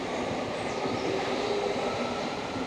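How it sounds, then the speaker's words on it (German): A Hamburg U-Bahn subway train accelerates out of the station, its continuous rumbling roar and rising motor whine close and loud throughout, with no voices. "Schauen wir noch ein bisschen zu, wie sie wegfährt. Korrektur, es ist eine U-Bahn. Oh, die beschleunigt ja richtig schnell."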